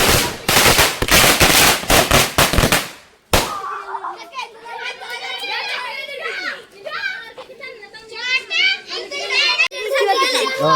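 Firecrackers crackle in a rapid, dense string of loud pops for a few seconds, then stop, and excited children chatter and shout nearby, with a last pop near the end.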